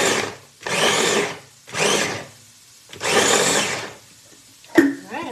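Vegetables for black bean and sweet potato rice bowls are chopped in a loud, motorised appliance. It whirs in four separate bursts of about a second each with short pauses between, ending in a brief clatter.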